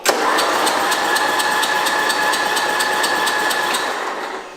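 A Craftsman lawn mower engine with a freshly readjusted carburetor starts and runs steadily at a loud, close, even idle with a fast rhythmic ticking, then fades slightly near the end; no talking.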